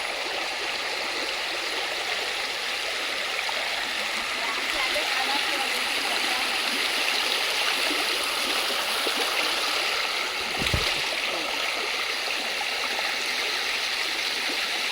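A stream running below a farm field, a continuous rushing and gurgling of flowing water heard up close, steady throughout with one brief low thump partway through.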